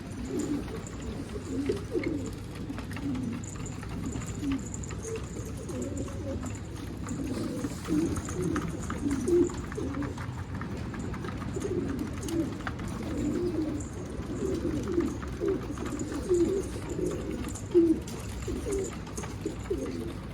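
Pigeons coo steadily and close by, a domestic loft among wild pigeons including a sick Arab posta, with soft overlapping throaty calls repeating throughout and no voices.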